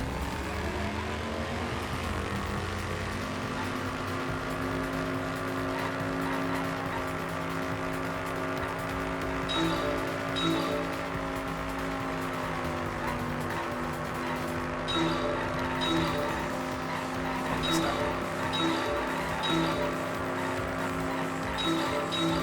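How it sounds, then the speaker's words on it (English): A car drives steadily in the Danganronpa V3: Killing Harmony video game, a continuous engine drone with faint repeating beeps or chimes layered over it throughout. "That's a car."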